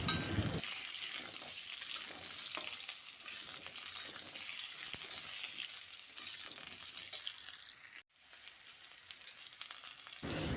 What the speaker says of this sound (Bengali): এবার সব কিছু এভাবে নাড়াচাড়া করে মিশিয়ে নিতে হবে